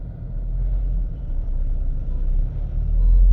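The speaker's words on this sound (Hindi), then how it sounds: "बट इतनी ट्रैफिक जैम है आज सैटरडे है, टू मच ऑफ ट्रैफिक।" Traffic jam noise on a Mumbai road, heard from inside a vehicle as a loud, steady low rumble of engines and tires that swells slightly toward the end.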